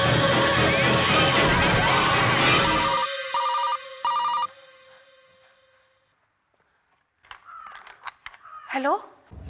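A telephone rings in short repeated bursts after a loud, dense burst of dramatic sound in a Hindi horror TV serial, then goes quiet before faint scattered sounds and a rising tone return.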